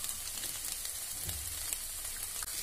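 Asafoetida (hing) drops into hot oil for a soybean and potato curry, giving a steady, close, even sizzle of frying with no voices.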